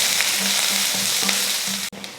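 Onions, green chilies and curry leaves sautéing in hot oil with mustard seeds, giving a steady loud sizzle with light stirring scrapes close up.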